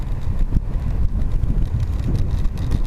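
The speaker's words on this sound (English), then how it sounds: "I've got a hell of a headwind coming out of town." Strong headwind buffets the microphone during a ride out of town, a loud, rumbling, gusting roar dominated by low-end wind noise, with no voices.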